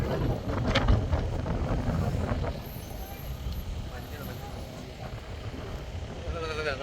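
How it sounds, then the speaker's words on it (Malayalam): Wind gusts buffet the microphone on a hill road in Wayanad, a rough broadband rush that is strongest early and then eases, with voices talking under it. "നല്ല കാറ്റ്."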